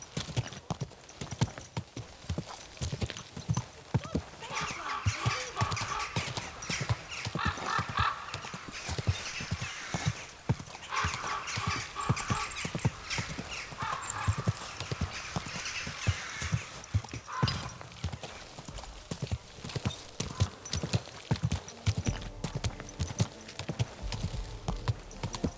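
Horse hooves clip-clop in a steady walking rhythm in Kingdom Come: Deliverance II, close and continuous, with occasional whinnies and snorts breaking through the hoofbeats.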